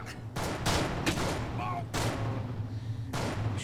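Loud bursts of gunfire in the video game Manhunt 2, four separate volleys spaced about a second apart, close and punchy over a low droning background.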